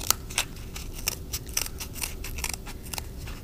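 Safety scissors snipping down the side of a cardboard toilet paper roll, a steady run of about a dozen crisp, close cuts.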